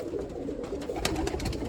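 Cumulet pigeons coo softly in a busy loft, their low, throaty calls repeating over a steady wash of rustling and background bird noise.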